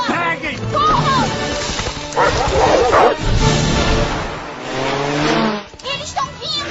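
Film-soundtrack dogs from the animated movie Up bark and yip in a busy, overlapping chase scene, up close and loud, with music, shouting and a crash or two mixed in.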